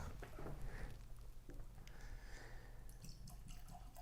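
Heaven Hill 7 Year Bottle-in-Bond bourbon poured from the bottle into a glass: a faint, steady liquid trickle with soft drips, quiet and close, with no one talking.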